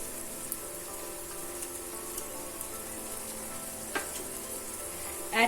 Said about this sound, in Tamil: நம்ம ஆட் பண்ண மசாலாவோட நல்லா வதக்கிக்கலாம்.